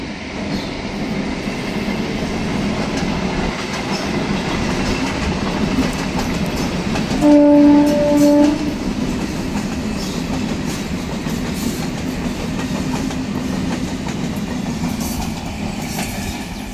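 A train rolls past behind a house in a steady, loud rumble with clattering wheels, and a short horn blast sounds partway through before the rolling noise carries on.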